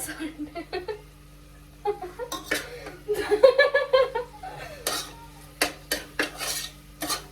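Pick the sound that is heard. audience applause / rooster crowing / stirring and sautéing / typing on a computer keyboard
stirring and sautéing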